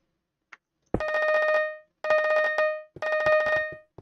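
A Maddox batphone rings in Hypixel Skyblock, a buzzing electronic trill in three evenly spaced bursts, each about half a second to a second long, loud and clear with no talk.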